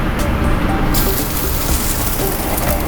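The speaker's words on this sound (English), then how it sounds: "Gonna add a little bit of water." Water pours into a pan of berry sauce on the stove, a steady rushing gush that fills the clip alone, with a loud, close hiss and no talking.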